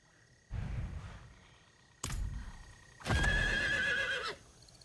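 A horse in the video game Diablo IV gives three loud whinnying neighs, each a rising burst, the last one longest and most shrill, with faint hoof clatter and no talk.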